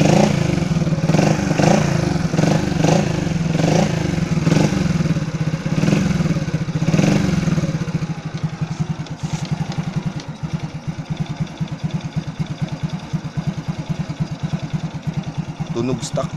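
A stock 2007 Honda Wave 100 motorcycle engine revs loudly and raggedly in repeated pulses for several seconds, then drops to a lumpy, rapidly pulsing idle close by.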